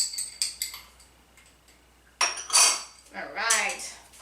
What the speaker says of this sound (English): Throw a fork and give it a little bit of a blend.